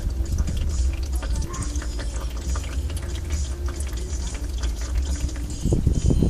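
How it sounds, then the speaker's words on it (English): Engine oil drains from beneath a Chevy Impala with the drain plug out, a steady close liquid trickle and spatter with scattered drips, continuous for several seconds and not overlaid by speech. "until all the oil starts to drip out."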